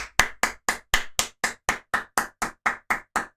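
A single pair of hands gives a slow golf clap: about fourteen crisp, evenly spaced claps, close and clear, with no voices.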